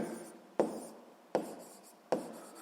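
Pen strokes scratch on paper while a physics solution is written down, three short distinct bursts of writing separated by pauses, quiet and close.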